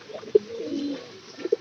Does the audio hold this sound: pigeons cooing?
yes